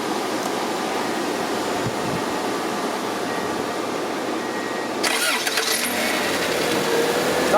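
A Subaru engine runs with a steady, dense mechanical roar, and a brighter burst comes in partway through as it catches and revs.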